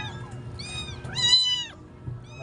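A hungry abandoned kitten meows several times in quick succession, high, thin and close, with quiet low rustling beneath.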